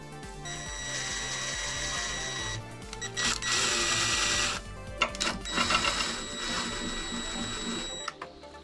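Power screwdriver whirring on transmission oil pan bolts of a Mercedes W204 C63 AMG 6.2 with a 7G-Tronic 722.9 gearbox, in several sustained high-pitched runs with short pauses and ratcheting clicks between them, close and loud.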